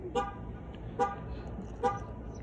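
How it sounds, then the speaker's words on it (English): A car horn toots three times in short, evenly spaced blasts over a steady low rumble of road traffic. "Noisy traffic."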